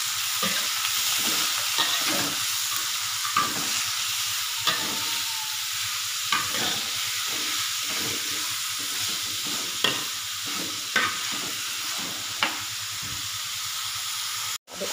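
Papaya vegetable being stir-fried in a pan gives a steady loud sizzle, with repeated scraping and stirring strokes throughout and no talk.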